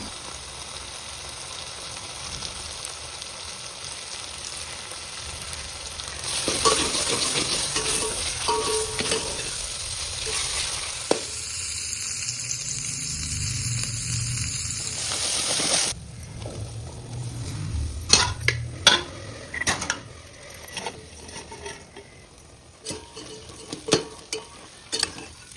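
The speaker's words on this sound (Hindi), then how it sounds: "पनीर की सब्जी को हमने छौंक दिया है और अच्छे से इसको भून भी लिया है" Paneer and spices fry in a pan for a home-cooked paneer sabzi, giving a loud, crackling sizzle that swells in the middle, with scraping stirs and clattering utensil knocks toward the end.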